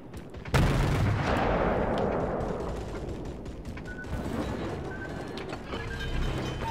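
The guns of the Yubari, a ship in the World of Warships naval battle game, fire one loud, booming blast followed by a long rumbling decay and a few fainter distant reports.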